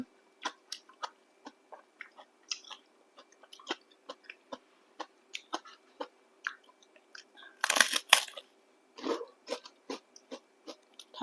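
Crunchy chewing of grilled fish chili paste with giant water bug, a steady run of close, sharp bites and crackles with one louder burst of crunching near the end, no talking.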